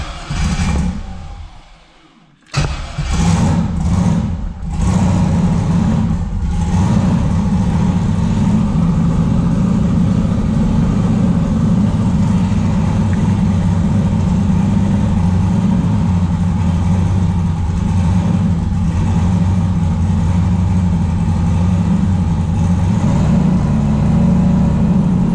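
A car engine idles loudly and roughly with uneven, stumbling pulses from a misfire, after a brief quiet moment at the start.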